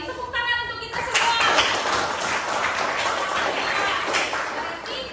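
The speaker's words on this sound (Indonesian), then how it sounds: "Tepuk tangan untuk kita semua" A classroom of junior high students claps together in a loud, dense burst of applause that starts abruptly and fills the room for several seconds with no voices.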